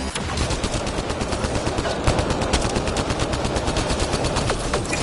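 An automated turret in the video game Mass Effect Andromeda fires continuously in loud, rapid machine-gun bursts, dense and close for several seconds without pause.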